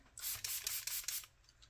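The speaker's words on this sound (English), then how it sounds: "I'm going to spray the orange" A spray bottle mists water onto orange watercolor paint in a junk journal, with several quick hissing bursts at close range, fairly faint, with no talk.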